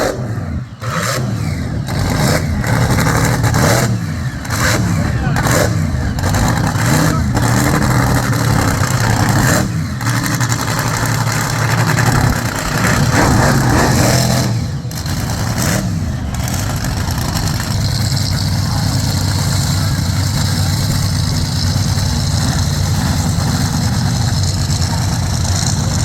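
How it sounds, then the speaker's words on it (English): Show trucks at the Devon truck show in Honiton, England warm up their engines, a continuous loud rumble of idling with repeated revs rising and falling over almost half a minute, with no talk. "Just going to get the trucks warmed up."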